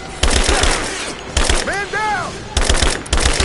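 Bursts of automatic gunfire crackle in a firefight in the video game Rise of the Tomb Raider, loud and close, with repeated volleys at the start and end and someone shouting in the lull between.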